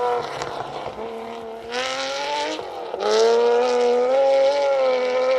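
A 3-litre Porsche 911 SC rally car races past on a rally stage, its engine revving high and climbing through gears with clear pitch sweeps and a loud surge near the end.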